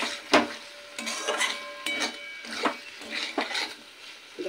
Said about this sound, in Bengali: এবার দিয়ে দেব ভেজে রাখা ফুলকপি আর আলু। এবার একই সাথে মশলার সাথে এটা মিনিট 5 একটু কষিয়ে নেব।